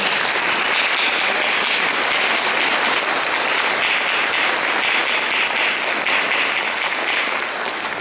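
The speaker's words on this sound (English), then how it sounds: "Ladies and gentlemen, a great round of applause for our graduating class" A graduating class at a college campus ceremony receives a steady round of applause from the audience, dense clapping that stays loud and even from start to finish without breaks.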